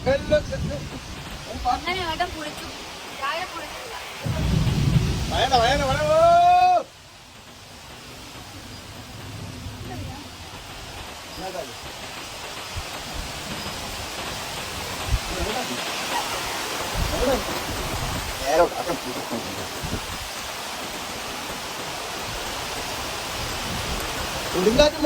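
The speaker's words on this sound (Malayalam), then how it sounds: "കൊടുങ്കാറ്റും മഴ" Heavy rain pours down steadily during a storm at a house, a dense broadband wash that fills the scene, while a person talks over it for much of the time.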